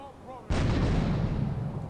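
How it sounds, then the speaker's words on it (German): A grenade explodes in the video game GTA 3 with one sudden, heavy boom that rolls on as a deep, fading rumble, preceded by faint game sounds. "Aber auch den werde ich mit der Granate ausschalten."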